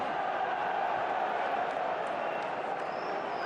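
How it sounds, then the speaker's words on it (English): A steady, dense crowd roar fills a Scottish football ground during a Celtic match, holding at an even level throughout with no distinct bursts or peaks. "They're certainly cheering every mistake that Celtic make"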